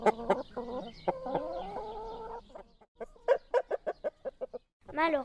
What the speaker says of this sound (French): toutes les poules se mettent à chanter plus haut que le coq.